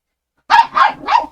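A small dog gives three quick, high barks close by, evenly spaced after a moment of silence.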